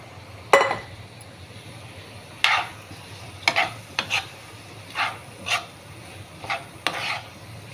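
Dried fish being added and stirred into a simmering tomato curry at home, with a metal spoon scraping and clinking against the pot in separate strokes over a faint sizzle.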